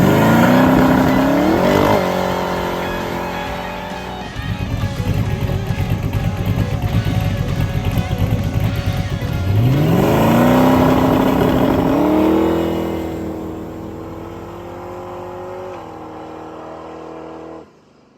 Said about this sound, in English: as you saw in the video, the Nova made its first test hit tonight